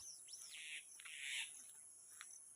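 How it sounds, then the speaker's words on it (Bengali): Faint bird calls outdoors among railway staff quarters, a few short chirps and a warbling phrase over a steady high insect-like hiss, distant and quiet. "পাখির ডাক শুনতে পাচ্ছ বন্ধুরা"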